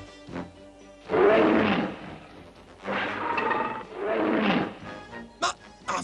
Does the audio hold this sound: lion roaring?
yes